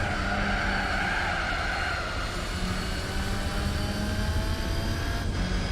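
A car in the Gran Turismo 4 video game roars continuously while its tyres skid and squeal, loud and sustained, with no speech.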